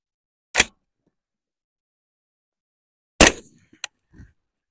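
Rifle with a clip-on PVS 27 night vision scope firing at a target, two sharp loud reports a few seconds apart, then a fainter click and a thud.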